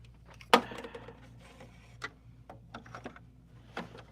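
Embroidery machine stitching out a design, a steady low hum with rapid repetitive ticking and a few sharper clacks, fairly quiet and close, with no talking.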